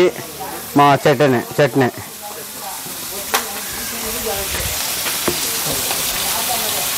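Fish frying on a hot tawa at a busy food spot gives a steady, loud sizzle and hiss after a short burst of nearby speech, with occasional sharp clinks.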